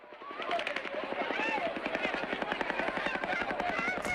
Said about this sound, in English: You hear that very rapid gunfire?